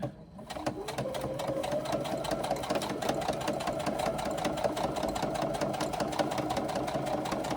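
Sewing machine stitching the side seams of a pouch, a steady rapid mechanical whir that starts up quickly and runs continuously, close and moderately loud with a fine rhythmic clatter.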